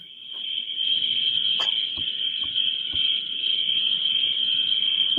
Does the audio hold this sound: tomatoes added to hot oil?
no